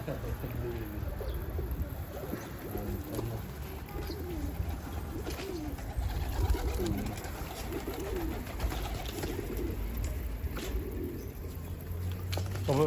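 Pigeons coo repeatedly during feeding, soft throaty calls rising and falling over a steady low background hum, with some talk mixed in faintly.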